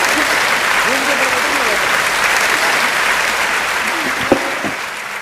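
Thunderous applause from a packed hall of thousands at a Hindi kavi sammelan in Delhi, greeting the poet Chandan Rai; dense, steady clapping fills the whole stretch, with faint voices calling out beneath it.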